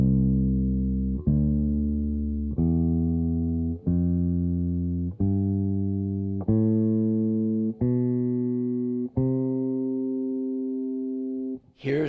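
Bass guitar plays a major scale as eight sustained plucked notes, each ringing about 1.3 seconds before the next, rising step by step, close and clean with no talking.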